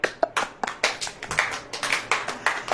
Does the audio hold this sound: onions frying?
no